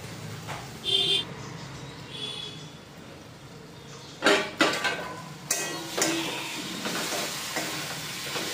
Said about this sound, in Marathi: असं हलवत राहायचं. मध्ये अधून मधून हलवत राहायचं.